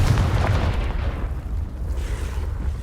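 A Confringo spell explosion in Hogwarts Legacy, a deep rumbling blast with heavy low boom that fills the opening second and slowly fades away, with no talk over it.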